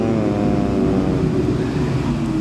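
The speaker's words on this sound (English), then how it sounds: "we're going to go in and hear the big truck in the background" A big truck rumbles past in the background, a steady low drone with a faint engine whine that holds level throughout.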